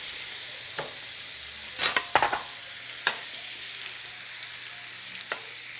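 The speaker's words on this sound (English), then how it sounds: "now we're going to be melting 2 pounds of butter" Butter melting in a skillet over medium heat gives a steady low sizzle, broken by a few sharp clinks and scraping bursts from a utensil stirring in the pan. No one speaks.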